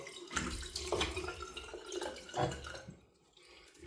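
A shaving razor (Razorock Game Changer 0.68) is given a quick rinse under a running sink tap, a close, soft splashing wash that fades out toward the end.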